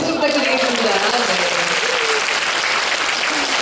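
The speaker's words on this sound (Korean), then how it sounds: "다시, 예, 박수 부탁드리겠습니다." Dense, steady applause from an audience at a 2017 happiness school empathy concert held by the Gyeongnam education office. It fills the whole stretch at an even level, with a faint voice underneath.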